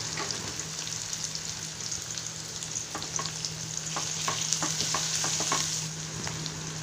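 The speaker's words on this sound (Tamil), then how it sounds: "வெங்காயம் வதங்கும் போது இடிச்சு வச்ச பூண்ட போட்டு வதக்கிக்கணும்" Onions and crushed garlic sauté in a pan with salt for a drumstick, tomato and brinjal gravy, giving a steady close sizzle with scattered crackles and spatula scrapes throughout, no talking.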